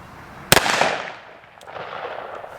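A single loud, close gunshot from a Smith & Wesson 629 .44 Magnum revolver with a 3-inch barrel firing a 240-grain solid lead bullet, a sharp crack followed by a long ringing echo that fades away.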